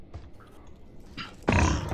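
Pig grunts from Minecraft: a couple of short low grunts, then a louder, fuller grunt near the end, with game ambience under it and no talk.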